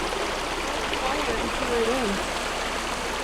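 A small stream of water flows through reeds at a desert oasis in Death Valley, giving a steady, close trickling and gurgling wash throughout.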